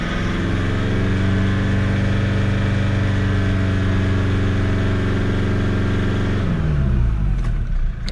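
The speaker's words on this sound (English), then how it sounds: "so bring the revs up." Car engine held at high revs for an alternator voltage test with the headlights on, a steady loud drone with strong low harmonics that holds for about six seconds, then drops back toward idle near the end.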